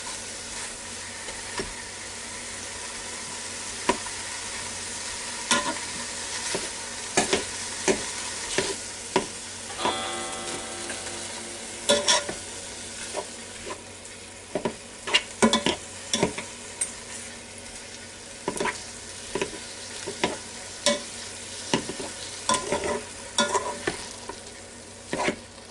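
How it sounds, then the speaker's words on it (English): Ground beef frying in a Ninja Foodi while a chopping tool breaks it up, a steady close sizzle under repeated sharp scraping and clacking strokes against the pot, with no talking. "It's amazing how good that chops that ground beef up like that."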